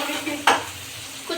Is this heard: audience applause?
no